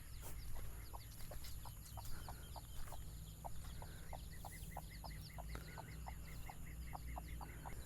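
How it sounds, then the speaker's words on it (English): A mother hen and her large brood of baby chicks on a muddy farm, peeping in quick, steady, high chirps with occasional clucks, faint and fairly distant over a low background hum. "More baby chicks over there, look. She just had a huge brood."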